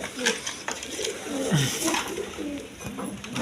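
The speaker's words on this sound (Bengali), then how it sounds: "এখানে এক পেয়ার রাসগোল্লা কবুতর আছে, দেখার মতো কবুতর" A pair of Rasgolla pigeons coo in repeated soft, throaty phrases up close, with faint household clatter behind them.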